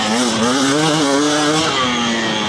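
A 250 dirt bike engine revs hard and continuously, its loud buzzing tone rising and falling in pitch as the throttle is worked, close up with no talk.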